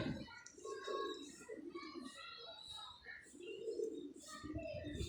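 Fancy pigeons coo in soft repeated phrases close by, mixed with light chirps, while someone talks over them.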